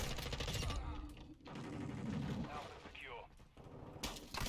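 Auto shotgun fire in Call of Duty: Modern Warfare II, a quick run of loud blasts at the start, then quieter scattered gunfire and mechanical clatter with game effects, closing with another burst of shots.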